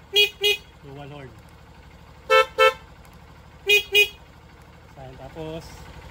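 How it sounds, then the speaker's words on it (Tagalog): A dual horn on a Honda TMX Supremo motorcycle sounds three loud, close double toots, each pair of short blasts separated by pauses, with faint murmured voices between them. "Dual horn."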